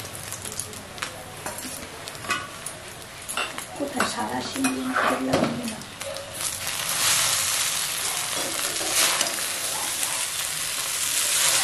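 Chopped radish, peas and fried peanuts go into a hot pan for homemade chowmein, with clattering metal utensils and crunchy stirring followed by a loud, steady hiss of frying. Brief speech is heard near the start.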